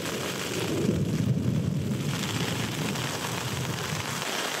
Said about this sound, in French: on a pris un petit déluge